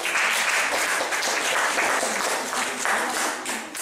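A church congregation applauds in a dense, continuous clatter of many hands, loud and close throughout with a slight dip near the end.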